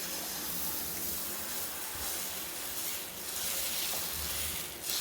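Instant dosa batter spread thin on a hot tawa, a loud continuous crackling sizzle with bursts of hissing steam, no voices.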